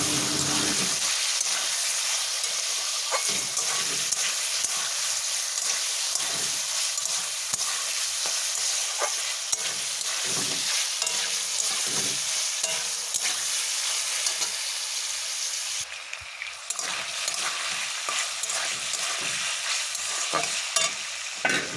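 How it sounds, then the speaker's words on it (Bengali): Potatoes fry in a pan with cumin paste while a spatula stirs and scrapes in repeated strokes over a constant loud sizzle, close up with no talking. "জিরে বাটা দিয়েও কিছুটা কষিয়ে নেব"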